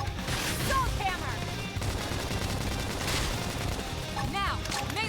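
Rapid gunfire in the video game Xenoblade Chronicles X, dense bursts of shots mixed with battle effects and rising whooshes, loud and continuous throughout.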